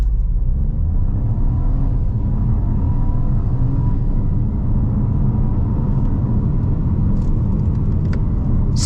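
A 2021 Nissan Juke with a 1.0-litre turbo engine and seven-speed automatic accelerating hard in sport mode, a loud steady engine rumble heard from inside the cabin throughout.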